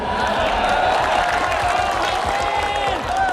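A crowd at a political gathering claps and cheers in a thick, continuous wash of noise. The applause holds strong for a few seconds, with shouts mixed into it.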